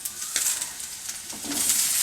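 Potatoes, drumstick pieces and pumpkin being stirred in a hot pan of oil, a close sizzle with scraping spoon strokes and brief clatter, no talking.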